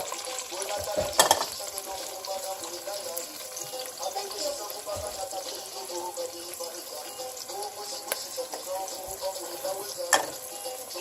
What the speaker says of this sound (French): Je vais mettre l'oignon.